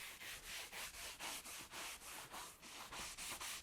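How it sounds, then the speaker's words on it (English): A Scrub Ninja pad scrubs a foamy cleaner over an interior car door panel in quick, even back-and-forth strokes, about three per second, close and crisp with no talking. "I just like to spray it on my Scrub Ninja, a few sprays, and then just start scrubbing"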